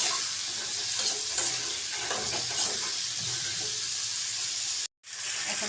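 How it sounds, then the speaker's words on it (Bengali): Curry sizzles as it is sautéed and stirred in a pan, a constant frying hiss broken by scraping strokes, cut briefly by a sudden drop near the end before resuming. "এখন তরকারিটি দিয়ে দিব। তরকারিটা এখন কষিয়ে নিই।"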